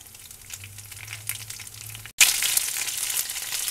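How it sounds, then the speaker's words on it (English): Beef pieces frying in a pan for a canned pot roast, a steady close sizzle that briefly drops out and then returns louder and brighter, crackling alone with no voices. "So we're just going to let these fry"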